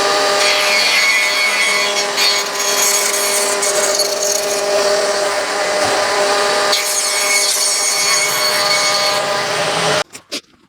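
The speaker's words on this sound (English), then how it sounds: "I've got to run them over the planer so I've got a good jointable edge" Planer jointing the edges of wood pieces for a jewellery box, a loud, steady high-pitched cutting whine that holds for about ten seconds before cutting off into a few clunks.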